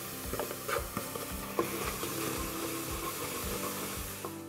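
Cumin dry-roasted in an oil-free pan sizzles as a paste of onion, ginger, garlic and green chilli goes in, with close scraping stirs and soft crackling running steadily throughout.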